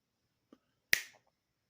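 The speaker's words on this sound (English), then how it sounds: "snapping your fingers" A single sharp finger snap, close and clear, preceded by a faint small tap, then silence.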